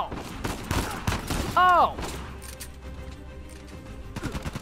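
Gunfire in the video game Uncharted 4, a burst of sharp shots near the start with a brief whistling tone, under excited talk and exclamations from a player.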